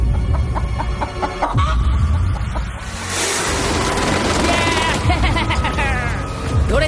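A freshly caught chicken clucks in short bursts on an island, with nearby people's voices and outdoor noise mixed in.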